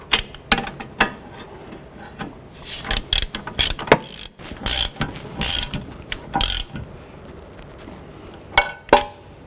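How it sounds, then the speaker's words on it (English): A ratchet wrench snugs down bolts on the wheel hub of a 2006–2011 Honda Civic, giving bursts of rapid, close clicking with short pauses between pulls and no talking. "we're just going to use our wrench and ratchet to go ahead and snug those down"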